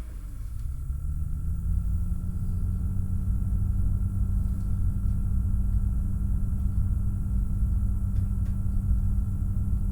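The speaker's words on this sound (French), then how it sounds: "je vous fais écouter l'alimentation Corsair comme quoi elle est vraiment silencieuse" A new Corsair computer power supply switches on with a low steady drone and a faint high whine, running continuously and evenly for the whole stretch.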